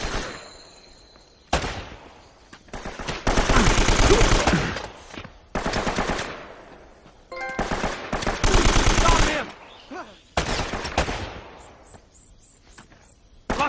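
Gunfire in Uncharted: Drake's Fortune, with several loud, rapid automatic bursts separated by quieter gaps, close and harsh, and faint voices between the shots.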